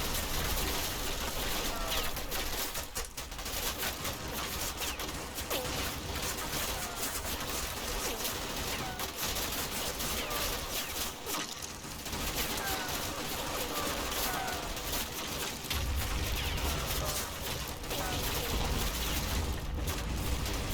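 Sustained crossfire in the Combat Mission WWII strategy game at Monte Cassino, a dense wash of distant rifle and machine-gun bursts rattling steadily for the whole stretch.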